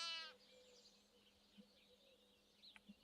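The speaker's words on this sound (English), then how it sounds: "Oh, it's a baby goat, baby sheep." A baby goat or lamb in the farming video game Farmer's Life gives one loud, wavering bleat at the start, followed by faint farmyard ambience with a few soft clucks and chirps.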